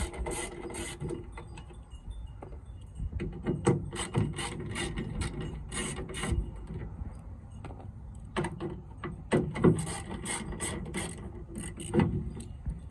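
A ratchet backs out four 5.5 mm screws holding a door speaker in a 2005 Ford F250 XL, with quick bursts of sharp clicking and scraping. The bursts come in irregular clusters with short pauses between them.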